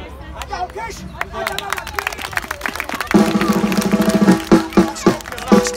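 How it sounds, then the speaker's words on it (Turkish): An audience at an opening event on stage bursts into clapping after a pause, the applause building loud and rhythmic with crowd murmur, following a few sparse claps and voices. "Hadi alkış."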